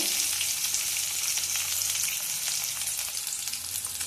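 Mustard seeds, chana dal, onion and curry leaves crackling in hot oil for okra poriyal, a loud continuous bright sizzle with tiny popping crackles throughout, close by.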